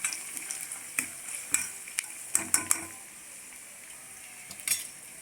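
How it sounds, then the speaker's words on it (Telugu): Green peas are stirred into softened onions in a pan for a capsicum and pea masala curry, with a low sizzle under a handful of sharp spoon-on-pan clinks scattered irregularly, close by. "పచ్చి బఠానీ కూడా వేసుకొని ఇలా కలుపుకోవాలి"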